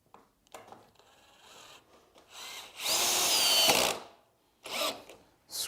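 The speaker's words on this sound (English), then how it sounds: "Screw it in." A power drill drives screws into the frame pieces of a galvanised planter box on a workbench, with a loud whirring burst of about a second, a shorter burst after it, and handling noise in between.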